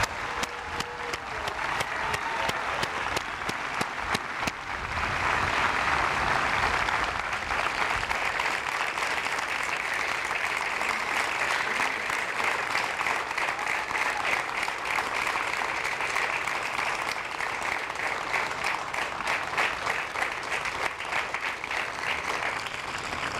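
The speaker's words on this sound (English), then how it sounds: "join me in a massive round of applause for these MTIs" Loud, sustained applause from a large audience at a military change of command ceremony, honoring military training instructors, with dense clapping rising and holding steadily across the room, some cheering mixed in.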